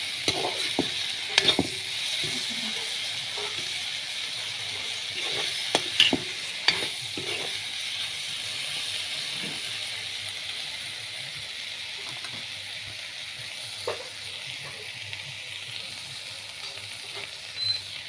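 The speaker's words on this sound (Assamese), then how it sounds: "মই এনেদৰে শুকান মাছ বেঙেনা আলু দি ভাজি খাই ভাল পাওঁ" Dried fish frying with eggplant and potato in a pan, a steady close sizzle throughout with occasional scraping stirs and clinks, no voices.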